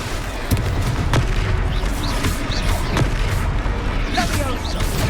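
The Confringo explosion spell goes off in Hogwarts Legacy combat, giving dull booms and crashing impacts over a dense rumbling battle bed, with faint voices mixed in.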